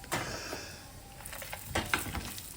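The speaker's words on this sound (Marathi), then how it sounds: "हे आपण मसाले घातले तिखट घातलं आणि हे चांगलं तेलामध्ये परतून घेतलं" Spices and chili powder sizzling in hot oil for grape pickle, a soft steady frying hiss broken by several sharp scraping stirs of a spoon against the pan, fairly close and with no voices.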